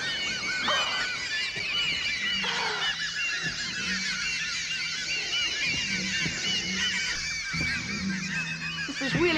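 Dense, chattering bird calls from the parakeet attack in Barbarella fill the whole stretch, a loud, continuous flock racket with honk-like squawks and no talking.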